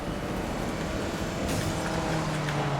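A car accelerating in Need for Speed: Most Wanted (2012) makes a dense, steady roar that fills the short stretch. A faint rising engine tone comes through near the end, and nobody talks.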